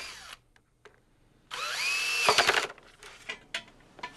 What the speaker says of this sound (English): Drill 1/4-inch drain holes 6 inches from the ends in the center of the bottom rail